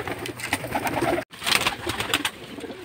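Pigeons cooing around an injured pigeon with a hurt wing, a steady soft murmur of calls that continues alone, with one brief silent break midway.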